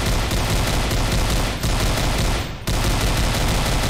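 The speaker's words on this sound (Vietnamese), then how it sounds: "Mình sẽ dùng súng để bắn nó." Rapid, sustained gunfire from a gun in a Siren Head horror video game, a loud continuous burst of shots lasting several seconds with two brief breaks, with no talking over it.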